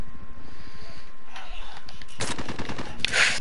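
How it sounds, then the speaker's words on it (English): Gunfire in Modern Warfare gameplay, with a quiet stretch of game ambience and then a sudden loud crack of a sniper rifle shot, followed by more close bursts of shooting. "That's a sniper."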